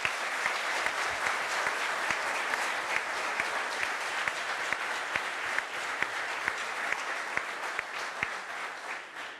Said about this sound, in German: Und nochmal einen riesigen Applaus bitte für Patrick Kleinmann.